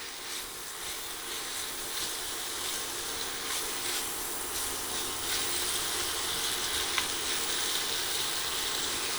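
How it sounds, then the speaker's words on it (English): Bread toasting in olive oil in a saucepan on the stovetop gives a faint, continuous low sizzle and hiss, steady throughout with a few small crackles and no voices. "You can actually toast bread in a saucepan on top of the oven"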